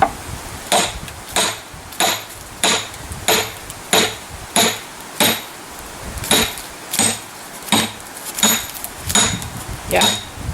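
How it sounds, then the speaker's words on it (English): A hammer strikes a chisel over and over to split a log for lumber. About sixteen sharp metallic knocks come at a steady, even rhythm, close and loud against a quiet outdoor background. "See if we can watch it split on the backside as the chisel comes through."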